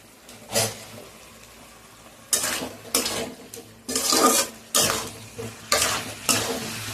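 Frying curry mixture of lentil fritters and spicy potato stirred in a pan, with repeated bursts of scraping and sizzling in uneven strokes, several loud close passes separated by quieter frying.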